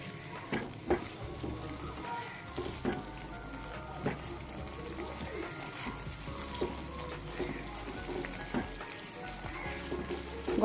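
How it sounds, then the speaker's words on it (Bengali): Spice paste (masala) for mater paneer fries in a pan with a steady low sizzle, faint and close. Scattered clicks and stirring scrapes sound over the sizzle. "এবার এটা ভাজা ভাজা হোক, মশলাটা একটু ফ্রাই হয়ে যাক"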